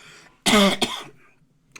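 A single sharp cough, close and loud, followed by a brief second burst and a faint throat sound before it trails off into quiet.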